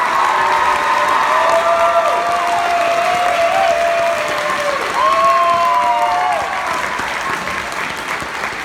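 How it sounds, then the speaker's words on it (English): Audience applause with some cheering rewards the student soloists standing up at a middle school band concert, a steady full wash of clapping holding for the whole stretch. "So we're gonna get those soloists, stand up and give them another round of applause"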